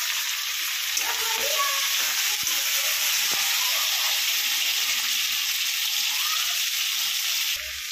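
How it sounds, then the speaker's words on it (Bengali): Ginger garlic paste sizzles loudly and steadily in hot oil in a pan, a dense hiss like rain with a few faint stirring clinks, close up. The hiss drops slightly right at the end. "আদা রসুন বাটা এটা আমি এর মধ্যে দিয়ে দিলাম"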